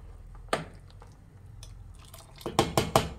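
Mutton sambar stirred and mixed in a metal pot, with several sharp scraping clinks of a ladle against the pot, a few scattered early and a quicker cluster of three or four near the end, fairly close and moderately loud, no talking.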